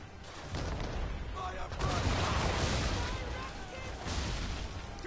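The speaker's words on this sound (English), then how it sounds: "You can see right here I'm going to be trying to fire a big broadside." A ship's cannon broadside fires in Assassin's Creed 3, a rapid volley of booming shots rolling into a sustained rumble across several seconds, with a voice talking over it.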